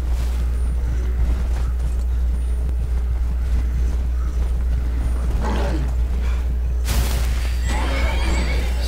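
A horse in the video game Skyrim whinnies loudly over a steady low hum and game sounds, with a sharp burst late on and no speech.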